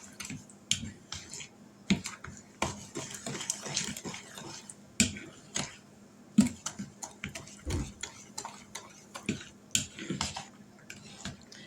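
Chocolate chip blondie batter mixed by hand in a bowl, with a steady stream of close clicking, tapping and scraping strokes, uneven in rhythm and moderately loud, with no talking.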